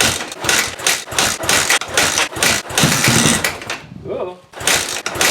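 A KTM 450 EXC motorcycle engine, left sitting for six years, is kicked over hard and again and again, making loud, rough, rhythmic mechanical chugging with a short lull before the strokes resume.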